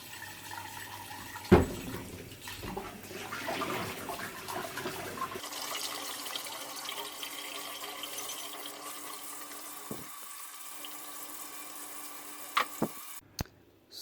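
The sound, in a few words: water running in sink while cleaning a vintage Swemab coffee pot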